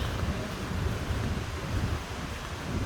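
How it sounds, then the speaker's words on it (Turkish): Steady roar of ocean surf washing onto a long sandy beach in Phuket, Thailand, with wind buffeting the microphone throughout. "okyanus bayağı bir dalgalı. Gördünüz mü arkadaşlar? Bayağı bir dalga var."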